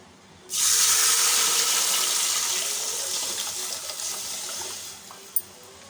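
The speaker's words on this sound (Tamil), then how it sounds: "ஏழரை டம்ளர் தண்ணி எடுத்து வச்சுருக்கோம் அதை வந்து உள்ளே சேர்த்துடலாம்" Water pours into a cooking pot in a steady, hissing stream for several seconds, gradually easing off, followed by a single light clink.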